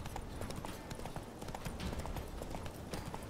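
Rapid hoofbeats of a galloping horse in The Witcher 3: Wild Hunt, a steady drumming rhythm that runs the whole time at even, close loudness, with no other sound over it.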